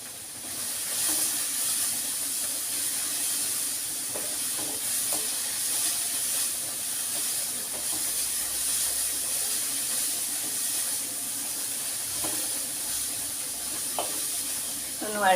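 Noodles fry in a hot pan, giving a continuous steamy sizzle and hiss with occasional scraping stir strokes, heard close and fairly even throughout.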